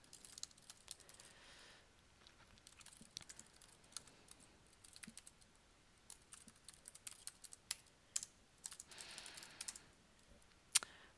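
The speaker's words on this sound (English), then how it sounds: "type in the following command in Terminal" Soft, close computer keyboard typing on a Linux terminal, an irregular run of light key clicks with brief pauses and a few sharper taps, ending in a firmer keystroke; no talking.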